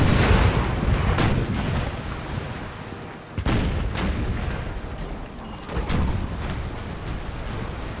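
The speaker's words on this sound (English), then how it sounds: "Should be loaded with grape shot as well for the cannons." Cannons firing grape shot in the naval battle game Imperial Splendour, a dense rumbling barrage with several sharp booming blasts standing out over a continuous roar of battle.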